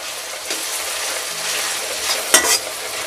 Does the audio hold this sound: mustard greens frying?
yes